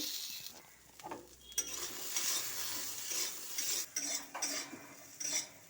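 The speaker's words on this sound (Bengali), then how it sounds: "তো চানা আর সয়াবিনটা ভালোভাবে ভাজা হয়ে গেছে," Chickpeas and soybean chunks, seasoned with salt and a little turmeric, fry in a pan with soft sizzling under intermittent metallic scraping and clinks of a spatula stirring against the pan, fairly quiet and close.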